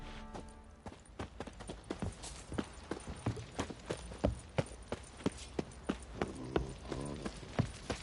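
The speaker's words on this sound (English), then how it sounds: "Time to water the horses." Horses walk with a steady, even clip-clop of hooves in the Witcher III video game, the hoofbeats close and clear over a quiet background.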